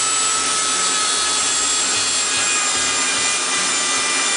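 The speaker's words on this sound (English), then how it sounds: "Grind it away." A grinder wears copper off the edges of pennies for a homemade battery project, a loud continuous rasping grind held close throughout with no pauses or talk.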